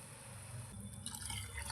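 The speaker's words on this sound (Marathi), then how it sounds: "अगदी थोडंसं पाणी ॲड केलं आहे एक वाटीवर" Water is poured into cooked, thickened dal in a pan, a soft trickling, filling pour heard close up and fairly quiet for a couple of seconds.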